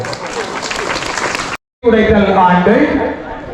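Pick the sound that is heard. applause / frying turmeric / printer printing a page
applause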